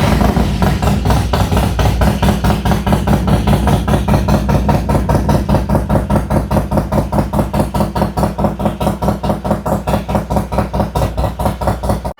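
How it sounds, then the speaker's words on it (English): A 2025 Harley-Davidson Low Rider ST with the 117 V-twin is running close by indoors. It idles loudly with an uneven, lumpy pulse that slows and steadies into a regular loping thump. There is no talk. "And we're going to go ahead and start the bike."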